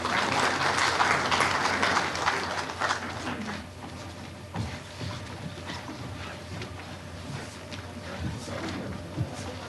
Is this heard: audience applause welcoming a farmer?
yes